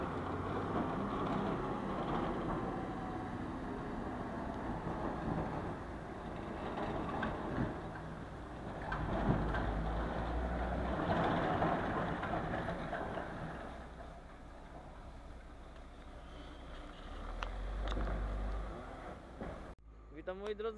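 A truck with a semi-trailer drives slowly during a C+E license lesson, a steady low engine drone and cab rumble running throughout beneath continuous talk inside the cab.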